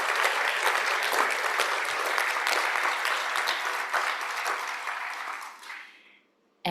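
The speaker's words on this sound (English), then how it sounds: "really a big round of applause for everyone behind the scene" An audience at an in-person event gives a big round of applause to the behind-the-scenes team. The clapping is loud and sustained for about five seconds, then tapers off quickly into near silence.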